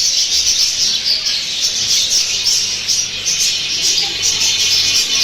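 Caged birds at a bird market shop, a dense continuous chorus of high chirps and tweets, fairly loud and close, with no talking.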